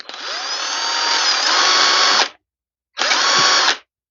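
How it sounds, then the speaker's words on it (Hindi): Electric drill machine running at full speed in two bursts, a long steady whine of about two seconds, a short pause, then a second shorter run; loud, close and alone with no talk. "अब ड्रिल मशीन को कुछ इस तरीके से इसके ऊपर चलाते हैं"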